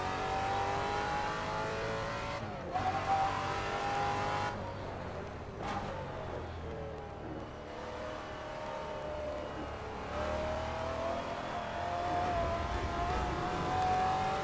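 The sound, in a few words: De Tomaso car engine and tires in Assetto Corsa video game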